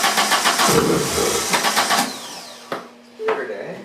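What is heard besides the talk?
1983 VW Rabbit GTI engine firing briefly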